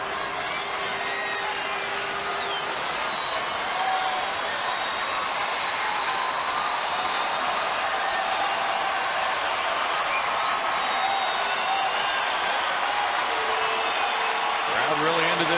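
Baseball crowd at a Rangers vs Astros game applauding and cheering steadily throughout, a broad continuous roar that swells slightly toward the end, with a few faint whistles above it.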